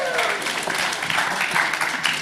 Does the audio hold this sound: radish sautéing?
no